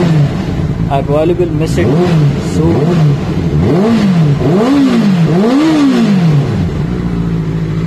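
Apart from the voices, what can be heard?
Benelli TNT 600i motorcycle engine running and revving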